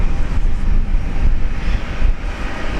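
A Korean Air Boeing 787 Dreamliner at Brisbane International Airport, its engines a loud, continuous low rumble and roar heard close and alone for the whole stretch.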